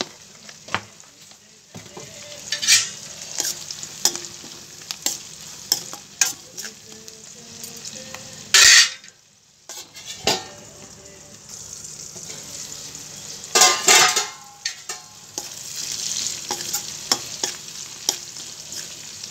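Ingredients for a chicken curry fry and are stirred in a pan, with a steady close sizzle and repeated scraping stir strokes and clatters over about nineteen seconds, and no talk.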